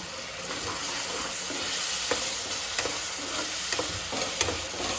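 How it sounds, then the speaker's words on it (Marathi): Tomato paste is stirred into a frying mushroom masala with garlic paste. Constant bright sizzling fills the whole stretch, broken by regular scraping knocks of a spoon against the pan, close up, with no voices. "आता आपण टाकू टॅमॅटोची पेस्ट. ती पण टाकली, तिला पण मस्त अशी कालवून घेऊ."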